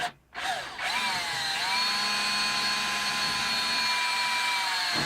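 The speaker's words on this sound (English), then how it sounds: "I'm using a 7/64 drill bit to make our pilot hole" A power drill spins a 7/64 pilot bit, boring a steady, continuous whine after a brief start and a short dip, running loud and close for several seconds with no talking.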